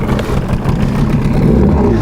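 A warmed-up Tohatsu 9.8 outboard idles and runs on a Flagman 330U boat, a loud, close, continuous engine drone with slight wavering in pitch.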